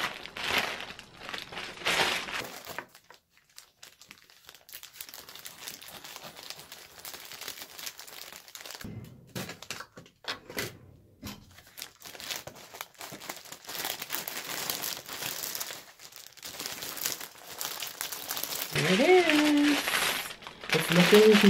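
Plastic shipping packaging from China is crinkled, torn and pulled open close by in loud, bursty rustles that start and stop throughout, while someone speaks over much of it.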